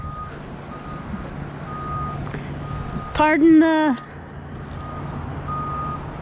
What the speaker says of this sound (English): backup beep.